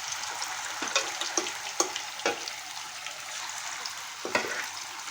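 Masala-coated fish pieces fry in a pan with a steady hiss and crackle, broken by a few sharper pops and spatters, close and fairly loud, with no talking.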